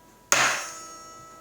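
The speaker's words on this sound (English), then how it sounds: "hammer once, hammer twice, and go towards" A single sharp hammer blow lands on a solar charger during a repair, a bright metallic impact with a ringing tail that fades over about a second, heard alone.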